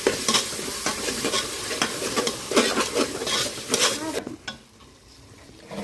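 Tomatoes and curd being sautéed for chicken biryani, a close sizzle with repeated scraping stirs of a spoon against the pan, then cutting off abruptly near the end.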